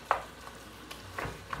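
A spoon scrapes and stirs browning meat for chili in a pot, giving a few sharp clinks and scrapes with faint sizzling between them, close and moderately loud.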